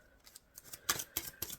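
Tarot cards are shuffled in a handful of quick, soft riffling bursts, faint and close, with short pauses between them.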